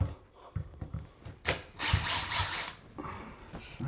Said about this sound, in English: And then we remove the handle.